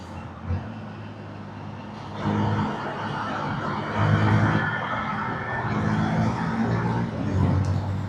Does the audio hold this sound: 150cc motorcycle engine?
yes